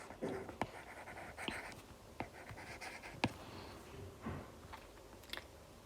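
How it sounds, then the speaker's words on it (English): Faint pen or marker strokes writing out a problem by hand, scattered short scratches and taps with pauses between them in a quiet room. "I will write the problem"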